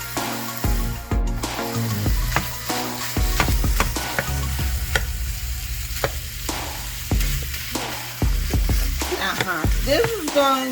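A bacon cheeseburger filling of ground meat browns in a pan, giving a steady close sizzle with frequent scraping and stirring knocks throughout, and no one talking.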